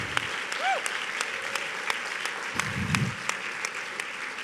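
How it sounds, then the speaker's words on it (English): Light, sparse applause from attendees at a law school pro bono awards ceremony, with separate claps ringing out over steady room noise and a brief voice sound in the background. "y'all need to give yourselves a round of applause"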